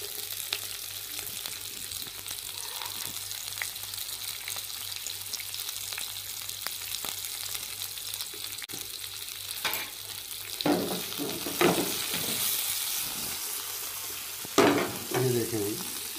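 Green chillies fry lightly in a pan with a soft continuous sizzle, and a few louder stirring scrapes and bursts of spitting oil come near the end.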